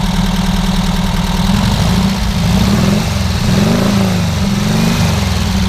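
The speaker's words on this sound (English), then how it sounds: "rev it up just a little bit." A 1974 Volkswagen Thing's air-cooled engine runs close and loud, idling with a lumpy rumble and lifting in a few gentle revs, with no talking.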